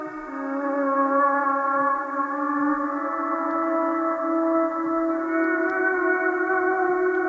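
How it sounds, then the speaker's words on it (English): A long, sustained synth chord is washed in heavy Valhalla DSP Supermassive reverb. Its layered tones hold steady and shimmer for several seconds in a smooth, spacious tail without speech. "I've dropped quite a lot of Supermassive from Valhalla DSP as a reverb on it"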